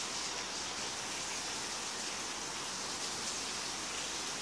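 Flowing water in a video game survival world gives a steady, dense broadband rush that fills the whole stretch without a break, with no speech over it.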